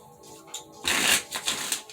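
Tarot cards are shuffled in a quick riffle, a short burst of crisp flapping followed by a few light taps.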